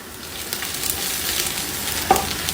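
Beans sizzling in oil in a pot, a steady close crackle of frying with a brief stir or clink near the end, no talking.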